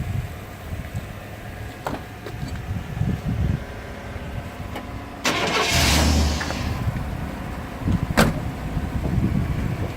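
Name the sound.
2017 and 1997 GMC trucks idling side by side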